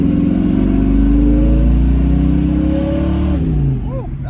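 A 1967 Ford Mustang Fastback engine revs loud and close, rising and holding a deep throaty roar for several seconds before dropping back toward idle, with a voice briefly audible near the end.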